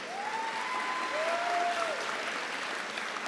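Crowd applause at an eighth grade graduation ceremony, a full, sustained clapping from a large audience, loud and even throughout with a faint whistle-like tone drifting over it early on.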